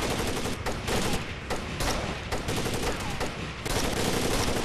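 Rapid rifle fire in Rainbow Six Vegas 2, a dense run of loud, close gunshots in quick bursts with brief gaps, continuing throughout.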